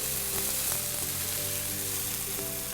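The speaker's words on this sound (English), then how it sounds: "just going to place that skin side down in the pan until we get a nice golden brown crust" A rack of lamb seared skin side down in a hot pan, giving a loud, dense, constant sizzle and crackle close up for a few seconds without speech.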